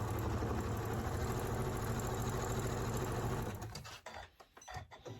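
A sewing machine stitches a quilt block seam with a fast, steady mechanical rattle, close and continuous, then slows and stops into a few scattered handling noises.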